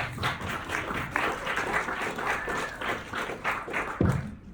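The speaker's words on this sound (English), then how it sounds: "let's give a round of applause" A small audience claps in a burst of applause, the patter of hands rising and falling for several seconds before a thump at the end.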